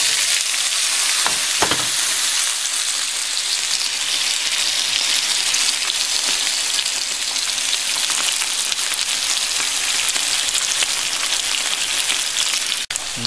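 Potato pieces fry with whole cumin seeds in a pan, a loud, steady, dense sizzle that holds evenly throughout with no voices over it.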